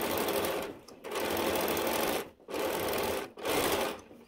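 A sewing machine runs in steady bursts while stitching a quilted project bag, pausing briefly between seams; close and clear with no talk.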